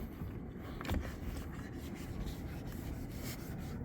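A clay bar is rubbed back and forth over weathered plastic trim on a 2019 Audi Q3 that sat outside for three years, making a close, gritty, sandpaper-like scraping with faint rhythmic strokes.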